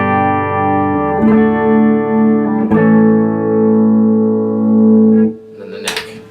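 An electric guitar through its EMG bridge pickup into a Fender Deluxe Reverb '68 reissue amp rings out a few sustained chords with reverb, each restruck and left to decay, ending in a short scratchy noise.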